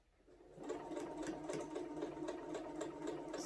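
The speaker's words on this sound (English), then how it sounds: "Sew right before the next pin." A sewing machine hums at an even pace, close and moderately quiet, stitching a quilted placemat up to the next pin after a brief soft start.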